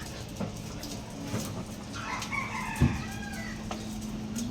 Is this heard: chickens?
yes